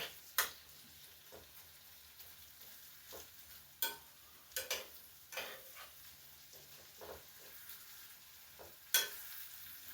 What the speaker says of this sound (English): Now, we just sweat these onions down in the butter.